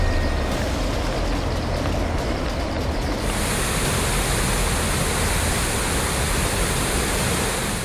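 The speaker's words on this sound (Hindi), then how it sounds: "देहरादून में रिस्पाना नदी पूरे उफान पर बह रही है।" The flooded Rispana river in Dehradun rushing at full spate during heavy monsoon rain, a loud, continuous roar of churning water filling the whole clip with no voices.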